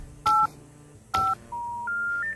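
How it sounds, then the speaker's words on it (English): Telephone keypad dialing tones in the VR game Budget Cuts Ultimate: two short clean beeps, each roughly a quarter second, followed by three longer steady tones at stepped pitches, quiet and alone with no talk. "Make a phone call. There's the phone."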